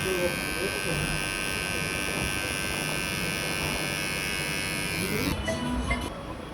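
An electric hair clipper buzzes steadily up close while trimming a beard in a barbershop, a continuous motorized drone that cuts off abruptly near the end. Faint voices can be heard in the background.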